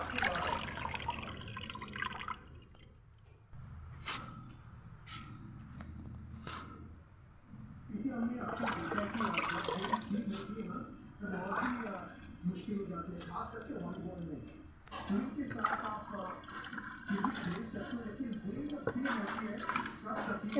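Leafy greens full of sandy soil are rinsed in water, making intermittent splashing and trickling for the Bhoot Chaturdashi fourteen-greens meal, mostly under a person talking at length.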